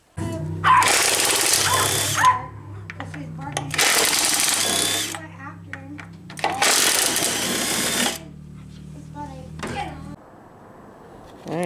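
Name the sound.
cordless 1/2 inch impact wrench, Makita-compatible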